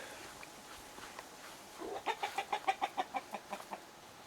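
Chickens clucking in a chicken run, starting with faint scattered sounds and then a clear rhythmic series of about a dozen clucks in the last two seconds, moderately close.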